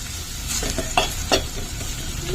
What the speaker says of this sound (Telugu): ఇప్పుడు ఇలా కొంచెం ఒక 2 మినిట్స్ వేగనిద్దామండి